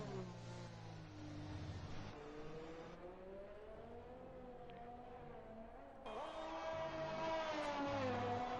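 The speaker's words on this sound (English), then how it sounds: "you gotta have lots of precision driving these cars around this circuit" Race car engines in Automobilista 2 drone steadily around a circuit at Vietnam, pitch rising and falling through gear changes, with a louder surge of revving near the end; faint and continuous.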